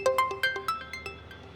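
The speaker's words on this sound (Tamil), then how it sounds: "சார் ஃபோன் வருது" A phone rings with a melodic electronic ringtone of quick, repeated chiming notes at a moderate, fairly soft level, with no voices over it.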